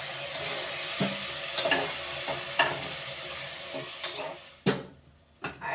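Tomato and curd paste frying with vegetables in a pan gives a loud, continuous sizzle close up, with occasional stirring scrapes and clinks and two sharp knocks near the end.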